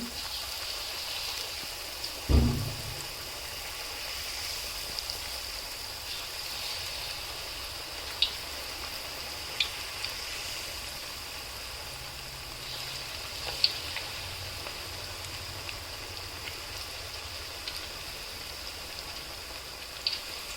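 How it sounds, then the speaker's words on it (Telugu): Garelu, lentil vadas, frying in hot oil give a soft continuous bubbling sizzle with scattered small pops and a louder splash-like burst early on, steady and close throughout. "ఇలా గారెలు వేసుకోవాలి ఇలా నూనెలో మసులుతూ ఉండాలండి"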